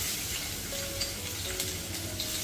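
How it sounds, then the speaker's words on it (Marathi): Crushed garlic cloves sizzle steadily in hot oil in a pan, a close, continuous crackling fry with no voices. "तेल गरम झाले, यामध्ये 7-8 लसूण पाकळ्या ठेचून घेतलेल्या आहेत"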